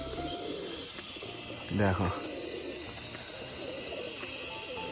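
A Rajshahi pigeon coos once during a tumbling display flight, a short, fairly close burst under a person's voice and faint background chirping.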